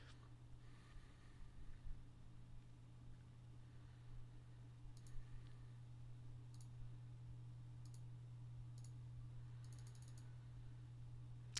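A card shuffler works through a deck during a Magic: The Gathering draft, giving quiet, repeated mechanical clicks and ratcheting bursts over a steady low electrical hum, with no talk.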